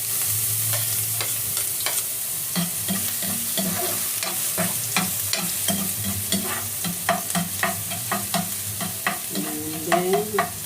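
Ginger and then garlic sautéing in hot oil for papaitan, a steady close sizzle broken by frequent sharp clinks and scrapes of a utensil stirring against the pan.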